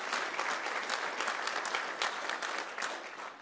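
A church congregation claps hands in praise during a sermon, a steady, fairly quiet burst of many hands with distinct slaps.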